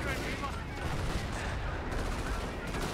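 Anti-tank guns firing in the video game Company of Heroes, part of a dense, continuous battle din of gunfire and explosions, with a commentator talking over it.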